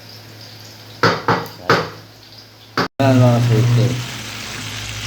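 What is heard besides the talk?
frying salmon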